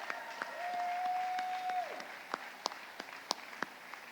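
Moderate audience applause at a university celebration, a few seconds of mid-distance clapping that thins into scattered individual claps.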